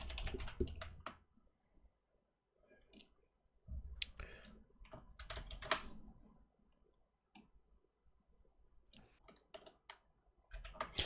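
Rapid bursts of clicks from someone typing on a computer keyboard, close and crisp, arriving in uneven clusters separated by short pauses, with no talking.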